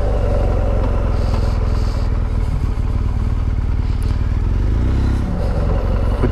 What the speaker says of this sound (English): Old boxers, they do sound good with an exhaust